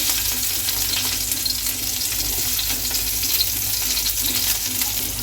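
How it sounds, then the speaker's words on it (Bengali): Crushed garlic, chilli and chopped onion fry in a pan, giving a steady close sizzle with stirring scrapes throughout. "পেঁয়াজগুলো দেবো দিয়ে এগুলো ভালো করে ভেজে নেব"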